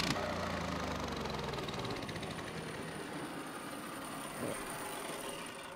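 200cc mini bike engine with its speed governor removed, running continuously and loud nearby with a rough, steady idle rumble and a slight blip midway.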